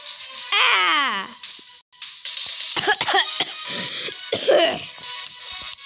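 A child coughs and clears their throat a few times while sick, with harsh bursts broken by short pauses, close and fairly loud, mixed with whiny vocal sounds.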